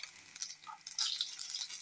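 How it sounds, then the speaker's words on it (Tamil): Mustard seeds, cumin and lentils sizzle and crackle in hot oil in a kadai, a soft, steady frying hiss with small pops, close but faint. "கடாயில் எண்ணெய் வச்சுருக்கேன், வந்து ஒரு ஸ்பூன் கடுகு போட்டுக்கோங்க, நல்லா கொதிக்கட்டும்"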